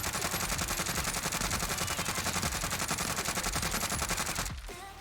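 Rapid automatic fire from a FARA rifle in Warzone rattles out as one sustained, loud burst of evenly spaced shots lasting several seconds before cutting off abruptly.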